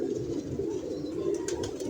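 Pigeons coo in a loft, a low continuous burbling close by, with a few soft rustles and flutters near the end.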